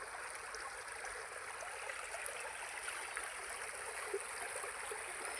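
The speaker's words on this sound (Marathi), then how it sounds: "ह्या ओढ्याला बघा, आज पाणी आहे ना आलं आहे कॅनलचं" A rural stream (odha) filled with canal water flowing along, a faint, even rush and trickle that runs without a break, no voices.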